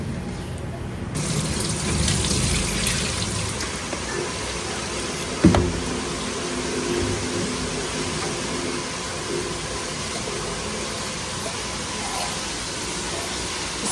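Tap water pours steadily into a kitchen sink as meat soaked in vinegar and salt is rinsed, a continuous close hissing gush with one brief clunk partway through and no talking.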